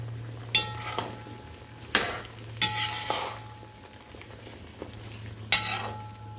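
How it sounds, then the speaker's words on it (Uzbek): Onions fry with meat in a pot for plov over a low gas flame, a steady soft sizzle broken by several sharp clinks and scrapes of a utensil stirring against the pot. "2 ta piyoz solyapman, chunki piyoz qancha ko'p bo'lsa,"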